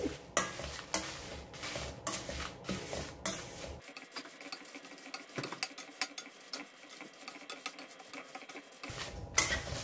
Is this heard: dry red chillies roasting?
yes